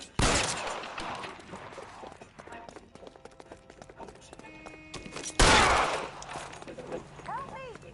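Gunfire in an L.A. Noire shootout: two loud bursts of shots, one at the start and a heavier one later, with scattered cracks and movement sounds between and a voice speaking.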